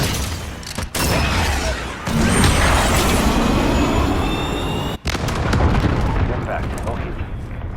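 Artillery fire mission impacts in Call of Duty Modern Warfare, a continuous loud rumble of blasts and debris with whistling streaks, broken by a few brief dropouts, with voices talking over it.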